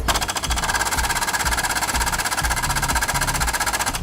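A small air pump inflating Polyair air bellows on an Isuzu D-Max, a steady buzzing, rattling drone with a rhythmic mechanical pulse, close and continuous.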